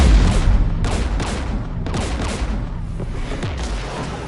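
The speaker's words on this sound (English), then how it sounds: "We're taking fire." Anti-aircraft guns firing in the Mass Effect video game, a rapid series of heavy booming shots in quick bursts, loud and close, continuing steadily across the clip with no talking.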